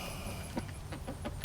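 Chickens eat mealworms and give soft, scattered clucks, a few short calls spread across a quiet background.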